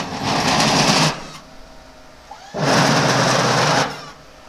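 A Hiniker tilt-lift plow blade actuator on a raised Yukon works in two bursts, each a loud steady electric hydraulic whine lasting about a second, with a short quiet gap and a faint click between them.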